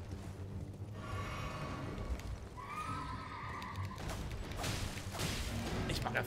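A horse whinnies loudly twice amid clattering hooves and rustling movement during mounted combat on a bridge in Elden Ring, with more hoofbeats continuing afterward.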